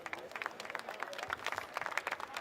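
Applause for the match judges and referee at a grand-final medal presentation, a thin, uneven patter of scattered hands clapping, fairly faint and distant, with some crowd murmur beneath.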